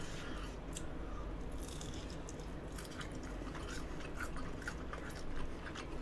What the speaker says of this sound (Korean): 떡은 겉에는 바삭하고 안은 쫄깃하고